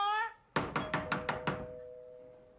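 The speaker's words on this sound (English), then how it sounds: "Somebody's at the door." Six sharp knocks rap on a door in quick, even succession, loud and close, following a brief meow-like tone, then fade into quiet.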